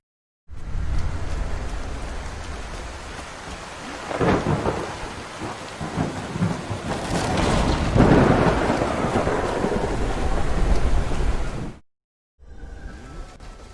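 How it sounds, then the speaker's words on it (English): Stormy ambience from the video game Eternal Hope: steady rain hiss with deep rolling thunder swelling twice, loud and enveloping, then a brief silence before the rain resumes. "Using the storm again, you can hear the wind roar, the rain, rustling leaves, lightning rumble"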